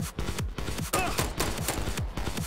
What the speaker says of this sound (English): He has an assault rifle.